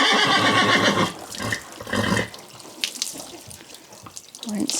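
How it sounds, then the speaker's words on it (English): Water streaming and splashing close by as dirt is rinsed from a horse during an outdoor bath in the sun, loud bursts of gushing flow easing into quieter trickles, with a brief horse whinny near the end. "rinsing away all the dirt."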